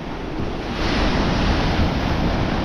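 Sea waves rolling onto the shore at Mar del Plata as the tide rises, a continuous loud wash of surf with wind buffeting the microphone and no voices.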